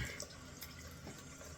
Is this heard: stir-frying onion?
no